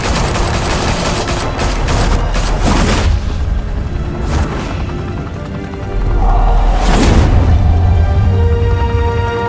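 Loud bursts of gunfire in Batman Telltale Episode 1, with rapid volleys and sharp cracks in the first few seconds, then a heavy boom and sustained rumble toward the end.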